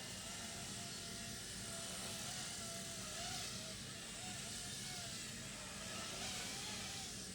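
A Blade Revolution 90FP micro RC helicopter flies indoors with a steady, close, buzzing whine from its small rotor motors, holding level with slight swells and no talk.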